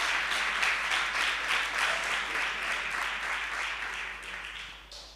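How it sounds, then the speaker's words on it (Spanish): A church congregation claps and cheers for several seconds, a dense, lively burst of applause that swells early and then gradually tapers off toward the end. "Un aplauso al Rey por eso"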